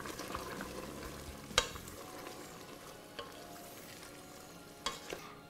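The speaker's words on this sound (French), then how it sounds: "On y rajoute maintenant la viande que l'on a retirée. On va bien mélanger tout ça." Lamb meat being stirred back into a prune tagine sauce, with a soft steady scraping and gentle sizzle, a few louder utensil knocks against the pot, no talking.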